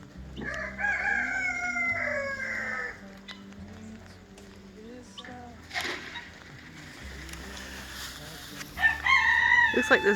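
Harsh, repeated chattering calls of guinea fowl outdoors on a rainy farm, bursts of rapid squawks at the start and end with a low droning hum and a voice speaking in between.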